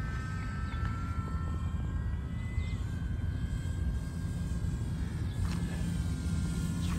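An FMS P-47 Razorback 1500mm RC plane on landing approach, its steady propeller drone running continuously and fairly distant, with faint whining tones drifting over a constant broadband hum.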